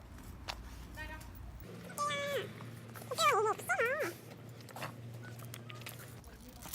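Puppies whimpering with a series of short, high-pitched whines and yips that rise and fall in quick bursts near the microphone, while a person talks softly in the background.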